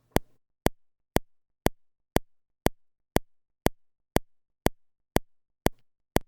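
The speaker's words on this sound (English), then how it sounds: "the URI 964 digital metronome" Sharp, identical clicks from a Universal Audio URI 964 digital metronome tick at a steady, even tempo, about two per second, dry and isolated against silence.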